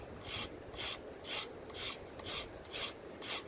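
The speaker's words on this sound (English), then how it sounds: "Put a few scrapes on here so you can see me hard at work." A wooden bow being shaped with a scraper, about seven even rasping strokes in a steady rhythm, close and fairly quiet, with no voices.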